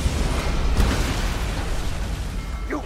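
A ship-mounted mortar firing and exploding in the naval pirate game Skull and Bones, a loud, heavy boom up front that rolls into a long, rumbling decay with scattered debris sounds fading out.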